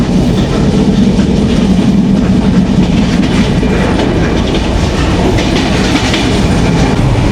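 The Benapole Express, a Bangladeshi passenger train travelling from Faridpur to Dhaka, runs on the rails with a loud, unbroken rumble and rhythmic clickety-clack heard close from inside the carriage throughout, with no talk.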